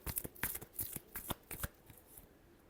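Tarot cards riffled in quick bursts of crisp flutters and slaps, several shuffles close up and quiet, then a soft fade.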